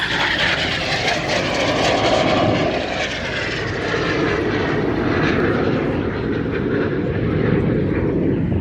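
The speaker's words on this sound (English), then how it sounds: "The aircraft about to pull up into three-quarter loops." Red Arrows RAF jets roar overhead during an aerobatic display at an air show, a loud sustained engine rumble and whoosh that holds steady throughout as the formation flies.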